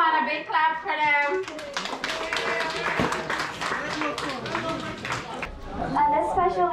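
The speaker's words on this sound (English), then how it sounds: "You can still come on, a big clap for them." Guests at a wedding reception in Guyana clap in a dense, continuous patter of many hands, with voices and chatter mixed throughout and a speaker talking at the start and end.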